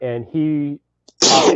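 A man's sneeze bursts out loud and close after a short silence, following a stretch of speech.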